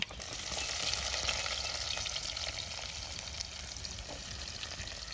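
Onions and whole spices, star anise, cinnamon, fennel and cloves, fry in hot oil in a pan for a village-style chicken curry, a dense, steady sizzle that stays close and loud throughout with no voices.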